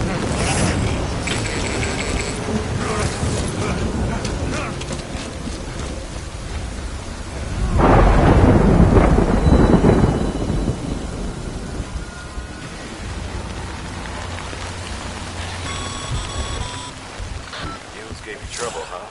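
In the video game Death Stranding, steady rain hisses throughout while thunder swells into a loud, deep rumble midway before fading back under the downpour.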